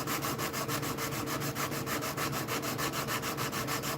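Wood sanded by hand with 80 grit sandpaper, fast rhythmic back-and-forth rubbing strokes, close and steady throughout with no talk.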